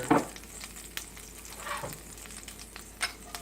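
Garlic and onion sizzle and fry in a hot pan, a steady crackle broken by a few louder stirring scrapes and clatters close by.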